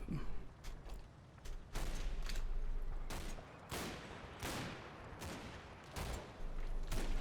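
Troops fire in Combat Mission: Battle for Normandy, a strategy game set in wartime Normandy, with repeated loud gunshot bursts at irregular intervals and scattered sharp reports in between.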